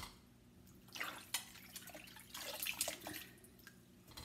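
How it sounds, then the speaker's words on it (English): Water dripping off freshly washed greens set in a colander in a sink, soft irregular drips and trickles against faint room noise, no talking. "And I'm going to let that water drip off of them."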